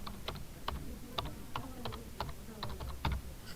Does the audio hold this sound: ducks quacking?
no